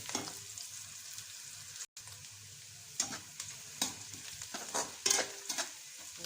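Onions frying in a pan for a bottle gourd curry, a continuous close sizzle with repeated scraping strokes of a spoon stirring through them.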